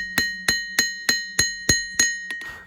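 Hammer blows on a hot steel hayrake tine being forged into a skinning knife, eight sharp ringing metallic strikes at a steady rhythm, close and loud, with the last few fading lighter.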